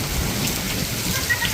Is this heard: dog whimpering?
no